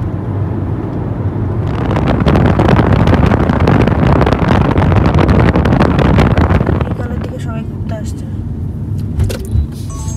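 A car cruises at about 80 km/h on the Padma Bridge road, with a loud steady engine and road roar plus wind buffeting from inside the cabin, easing off near the end, and a person talking over it.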